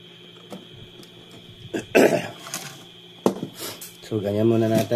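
A man coughs and clears his throat in bursts while working on repairing a VGL amplifier at a bench, with a few clunks of handling and a low hum in the background.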